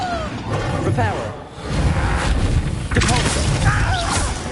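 Hogwarts Legacy's Reparo repair spell rumbles with booming, crumbling and rising magical tones under game music, while a character's voice speaks over it.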